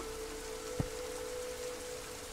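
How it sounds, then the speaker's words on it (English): Steady, faint rain falls outside as an even hiss, with a constant low hum and one brief soft knock. "It's raining outside."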